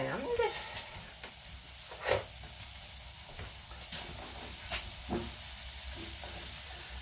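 Onions fry in a hot pan with a continuous close sizzle and hiss, broken by scattered sharp pops and clicks of stirring. No speech is heard.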